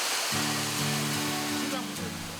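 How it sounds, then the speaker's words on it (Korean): An artificial waterfall in a private garden in Korea gives a loud, unbroken roar of falling water, with a voice talking over it. "아니 이게 인공폭포라고요?"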